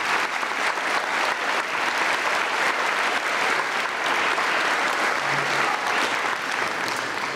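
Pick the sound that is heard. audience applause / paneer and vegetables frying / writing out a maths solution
audience applause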